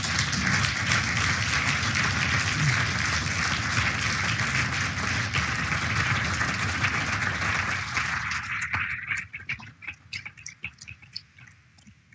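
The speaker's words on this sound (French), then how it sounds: "merci d'applaudir nos intervenantes et intervenants." Audience applause at a conference on autism care, dense and steady for about eight seconds before thinning out into scattered individual claps.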